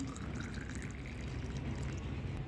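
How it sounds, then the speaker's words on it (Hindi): Water poured over tea leaves and a handful of garlic peels in a container, a close, steady splashing stream that runs without break and with no talking. "और अब हमें इसमें डाल देना है पानी"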